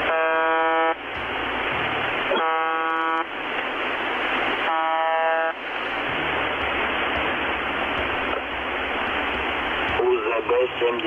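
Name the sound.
shortwave radio station buzz tones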